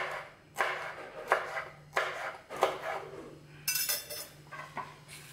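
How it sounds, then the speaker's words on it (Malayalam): Two green chillies sliced into small pieces with a knife on a board, a steady run of about six crisp, close chopping taps with short gaps, and a brighter scraping clatter near the end. "പച്ചമുളക് ചെറിയ കഷ്ണങ്ങളായിട്ട് മുറിച്ചിട്ട് കൊടുക്കാം നമ്മുടെ എരിവിനനുസരിച്ച്."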